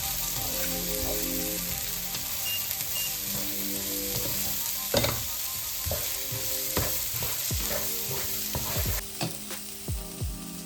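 Capsicum and cabbage sautéing in a hot pan for prawn fried rice, a steady sizzle with repeated scrapes and clinks of a spatula stirring throughout, close and alone.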